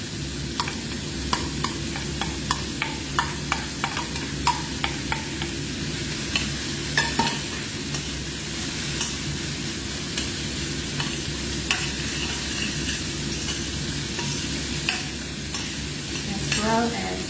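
Fried rice with diced carrot being stirred in a hot pan, a steady sizzle under repeated scraping clicks of the utensil against the pan, close and fairly loud, with no talking.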